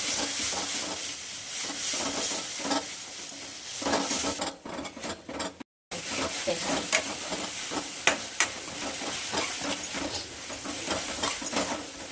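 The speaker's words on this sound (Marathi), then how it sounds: "त्यासाठी मसाला घालायचा हलवून घेऊ" Curd chili thecha is stirred in a pan, with scraping, clinking spoon strokes over a soft sizzle, close and continuous, broken by a brief pause midway.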